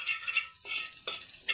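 A spoon stirring vegetable soup in a cooking pot, soft scraping and light clinks close by, brief and fairly quiet with no talk.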